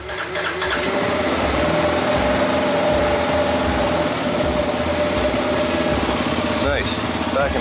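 A 2015 Kawasaki KLR 650 motorcycle engine idles steadily after being restarted following a stall, a loud continuous close-up drone with a fast, even rhythm that holds throughout.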